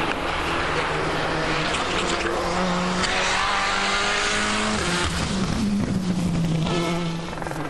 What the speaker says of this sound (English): It's Loeb's ability to maintain maximum speed through stages like these that set him apart on the tarmac